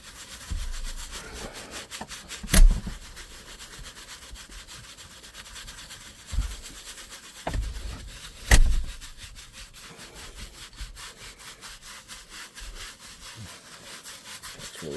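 An Alcantara steering wheel being scrubbed clean of grime, with a soft continuous rubbing and brushing texture broken by a few sharper scuffs and knocks, close and moderately quiet.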